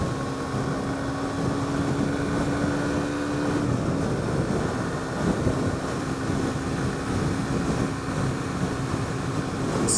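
A Suzuki GSX-S125 motorcycle rides at about 60 mph in sixth gear at high revs into a headwind, giving a steady engine hum mixed with heavy wind rush and buffeting throughout, with no talking.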